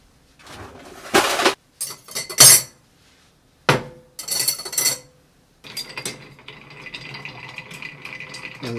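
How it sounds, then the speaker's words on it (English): Ice cubes dropped into a cocktail glass, several separate clinking, rattling bursts with pauses between, then a lighter settling crackle toward the end, no talk. "We just get some ice."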